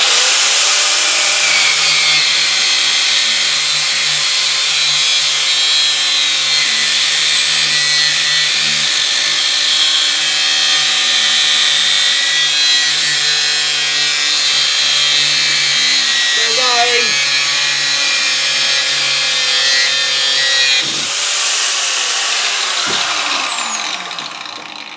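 A power tool cuts through a tungsten carbide rod, a steady high-pitched grinding whine running continuously for about twenty seconds before stopping, loud and close, then a short tail of fading spin-down.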